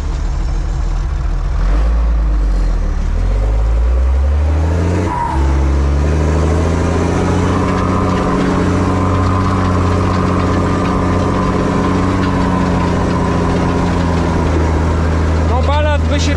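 Zetor KM tractor engine working hard while pulling a 5 m harrow, a loud steady diesel drone that rises in pitch and holds under load throughout, with a brief dip near the middle.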